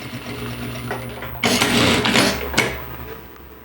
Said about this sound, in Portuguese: Vou na máquina e vou passar uma costura aqui.